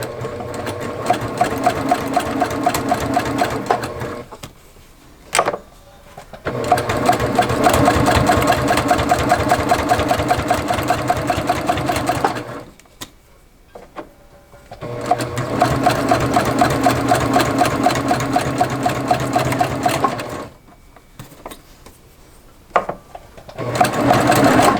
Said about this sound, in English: the needle is going directly in between, and it's going to catch that outer corner in the seam allowance